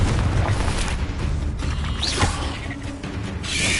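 A Confringo spell blast booms in the Hogwarts Legacy video game amid dense, loud combat noise, with a rumbling impact, a rising whoosh and mechanical clatter layered together.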